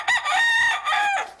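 A blue hen rooster crows loudly and close, a strained drawn-out cock-a-doodle-doo in three connected phrases with no other sound around it.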